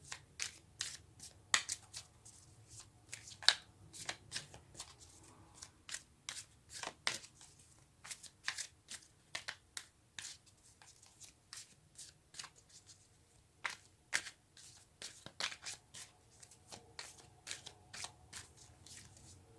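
Tarot cards are shuffled close up in a quiet room, with soft riffling, flicking and tapping in uneven bursts throughout and no talking.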